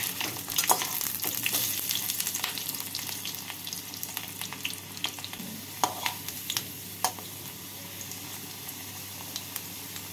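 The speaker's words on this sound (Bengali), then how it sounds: "তেলটাকে ভালো করে গরম করে নিয়ে প্রথমে আমি আলুগুলোকে ভেজে তুলে রাখবো।" Potatoes frying in hot mustard oil in a wok on a gas stove, with a steady, dense sizzle and occasional stirring clinks and pops, no voices.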